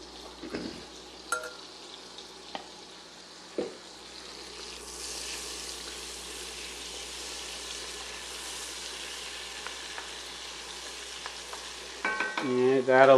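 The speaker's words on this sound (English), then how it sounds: "Get that butter nice and melted in there." Butter melts in a pan with a soft, steady sizzle that swells midway, accompanied by a few light clinks of utensils and a louder clatter of cookware near the end.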